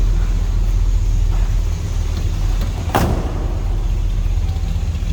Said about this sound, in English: Slip around the back so you can hear this run.